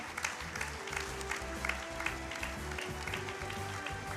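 An audience gives a fairly soft, even round of applause to welcome a guest at an annual celebration event, with a steady low hum running underneath the clapping.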